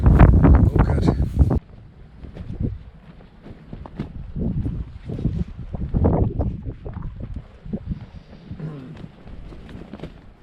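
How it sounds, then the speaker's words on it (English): Strong wind gusts buffet a coastal campsite at Whitesands Bay on the Wales Coast Path, rumbling and roaring across the microphone with loud bursts and a steady blustery background. "It is so blowy"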